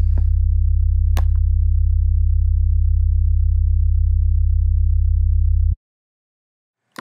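Sub bass synth tone from Ableton Live Operator: one loud, steady low sine-like note held for almost six seconds, then cutting off abruptly into silence, with faint clicks near the start and end.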